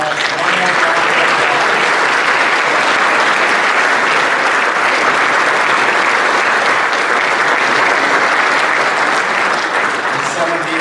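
A large audience applauds the 2023 National Softball Hall of Fame inductee class at an induction ceremony, dense and steady clapping sustained at full strength for about eleven seconds without pause.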